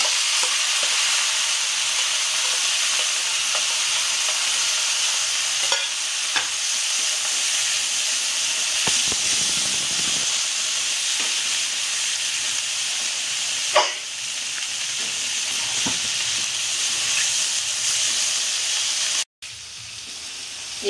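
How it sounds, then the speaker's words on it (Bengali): Spinach and soybean chunks fry in a hot pan while being stirred, a continuous loud hissing sizzle with occasional scrapes and clinks of the spoon, no voices. "এভাবে অনেকক্ষণ ধরে পালং শাক দিয়ে আর সয়াবিন দিয়ে খুব করে নাড়াচাড়া করতে হবে"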